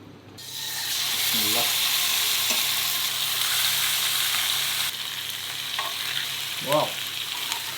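Marinated peri peri shrimp and chicken fry in a little oil in a pan, giving a steady loud sizzle and hiss throughout, with faint utensil clinks and a brief voice sound near the end.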